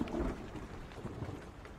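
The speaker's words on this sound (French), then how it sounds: "on entend bien la pluie qui tombe au-dessus en fait. Hein. Et le tonnerre, il est haut dans le ciel" Steady rain patters overhead with a low rumble of thunder in the horror video game Blair Witch, a dense, continuous wash of sound heard binaurally with no voices.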